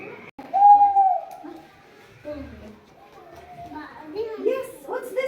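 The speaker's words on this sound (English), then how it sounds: "Owl." An owl hoot is played for a children's guess-the-sound game, one clear hooting call followed by young children and an adult talking over quieter sound.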